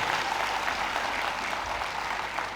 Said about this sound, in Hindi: सभी बच्चे साहब के लिए एक बार जोरदार तालियां बजाएं